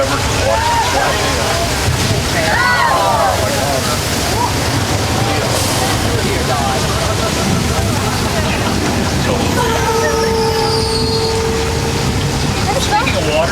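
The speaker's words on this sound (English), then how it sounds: "thousands of gallons were just dumped from a big tank at the top of the hill" Thousands of gallons of water dumped from a big hilltop tank in a flood effect on a studio tram ride, rushing and sloshing loudly and steadily throughout, with crowd voices and a tram rumble beneath.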